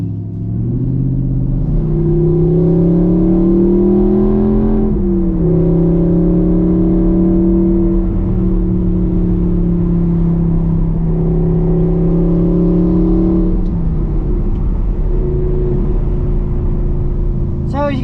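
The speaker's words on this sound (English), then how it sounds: "this R8 does have an aftermarket exhaust on it, and it sounds absolutely fantastic" A 2014 Audi R8 with a gated manual and aftermarket exhaust drives steadily, its loud engine note droning and rising through gears with a dip and shift around five and fourteen seconds, continuous throughout.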